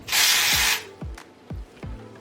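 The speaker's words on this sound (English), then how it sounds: "I'm gonna put some dry shampoo pretty much all over" Dry shampoo from an aerosol can sprays onto long hair in one long hiss, followed by three short, quieter bursts at a steady pace.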